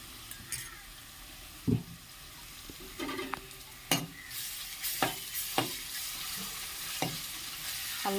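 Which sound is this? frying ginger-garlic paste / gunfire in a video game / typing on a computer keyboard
frying ginger-garlic paste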